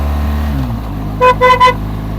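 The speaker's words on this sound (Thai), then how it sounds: "ส่งสัญญาณแตรไว้ก่อนเผื่อคนที่เขาจะเลยมาหาเรา" A car horn sounds three short honks in quick succession on a steep mountain road at Ang Khang, loud and close over a steady engine drone.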